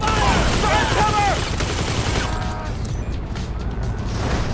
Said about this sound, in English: Lay down cover fire!